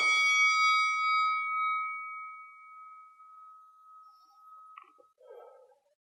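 A single bright electronic ding from a boxing round timer rings out and slowly fades over a few seconds, followed by faint shuffling, during martial arts technique practice.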